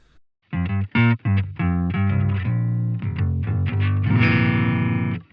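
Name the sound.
Line6 Helix poly pitch guitar effect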